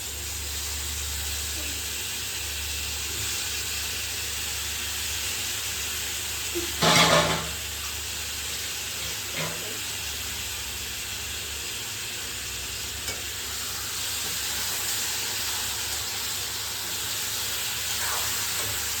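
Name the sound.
chicken added to hot pan, sizzling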